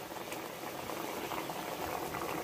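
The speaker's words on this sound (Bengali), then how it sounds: "ঝোল ফুটে গেছে, এখন দিয়ে দিব স্বাদ মতো লবণ।" Hilsa fish curry broth boils steadily in a pot, a dense, continuous bubbling and spattering that stays close and even throughout.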